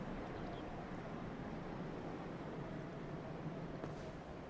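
Steady broadband wind rush blowing continuously in the video game Dark Souls, a constant airy roar filling the scene without pauses, fairly loud and close.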